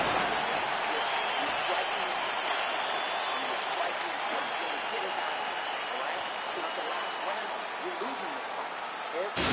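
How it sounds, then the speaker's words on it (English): Crowd applause and cheering fill a video game arena in UFC 4 after a round of a pay-per-view fight, a steady dense roar with no breaks that holds for the whole stretch. "So the crowd voicing its appreciation after that round"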